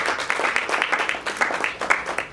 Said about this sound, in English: Let's give Joel Gombera a round of applause, please.